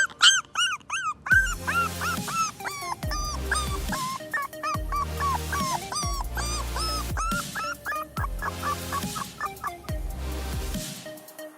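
A dog rescued after being buried in the ground yips and whimpers repeatedly in high, wavering cries over a regular pulsing low thump, continuous and close.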